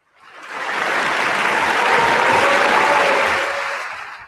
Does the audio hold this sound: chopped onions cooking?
no